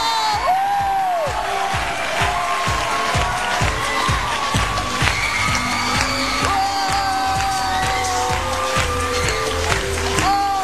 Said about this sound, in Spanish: Vamos a recibir con el fuerte aplauso que él se merece a mi hijo dominicano